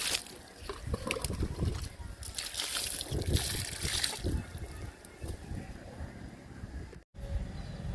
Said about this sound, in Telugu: వాటర్ ఇస్తున్నాను గన్నేరు మొక్కకి